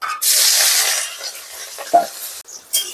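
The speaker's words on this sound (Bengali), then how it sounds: "তেল গরম হয়ে গেছে এবার পেঁয়াজ কুচিগুলো দিয়ে দিলাম" Chopped onions hit hot oil in a wok for Bengali dal torka, bursting into a loud, close sizzle that fades into softer frying, broken by a couple of stirring clanks near the end.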